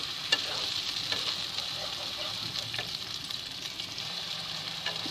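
Ground masala paste sizzling in hot oil in a pan while cooking egg curry, a steady close hiss and sizzle with light stirring scrapes, no one speaking.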